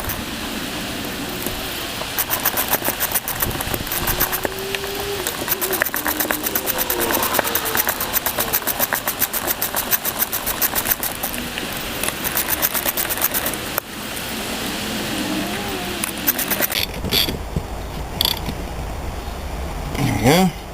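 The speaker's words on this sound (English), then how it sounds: "Now I'm going to put the bolts back in the alternator real quick" Bolts are driven back into the alternator of a 1998 Mustang with a rapid, continuous ratcheting clatter and mechanical creaking, fairly loud and close, pausing briefly before a final looser burst of clicks.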